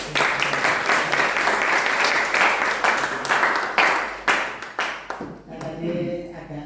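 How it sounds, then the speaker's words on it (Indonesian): An audience at a school class presentation breaks into sustained applause, many hands clapping densely and fairly close, with voices murmuring underneath before the clapping thins out and fades near the end. "Kita aplaus dulu untuk"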